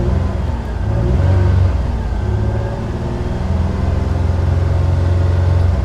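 A car engine, its RPM raised by a Mucar CDE900 Pro scan tool, hums loudly and steadily at a raised idle, holding a low droning tone throughout.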